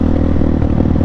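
Loud, close idle of a Rusi KRY200 motorcycle engine running rough and misfiring, an uneven low rumble broken by stumbling, clattery beats and small thuds, with no one speaking.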